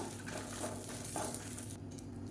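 Kashmiri chillies dry-roast in a pan with a soft, steady crackling and sizzling hiss, faint and close, with no talk.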